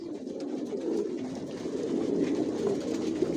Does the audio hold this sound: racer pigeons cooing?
yes